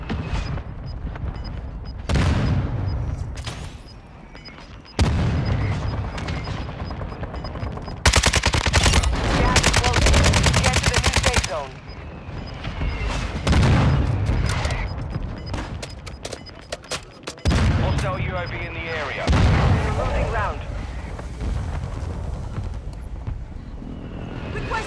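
An air strike in Call of Duty: Modern Warfare II brings loud bursts of rapid gunfire and booming explosions that come in waves, with short quieter gaps between the runs.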